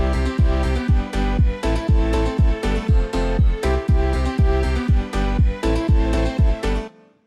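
A produced beat built from a flipped sample, with booming kick drum hits on a steady pulse under a bass line, sub bass and a violin part, loud and continuous for about seven seconds before stopping.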